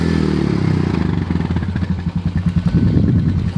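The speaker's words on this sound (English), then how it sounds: "So I'm gonna get Maya, we're gonna get on the four-wheeler because this is a pretty big piece of land." A four-wheeler ATV engine runs steadily up close on a big piece of farm land, its low mid-pitched chugging pulsing and clattering unevenly throughout.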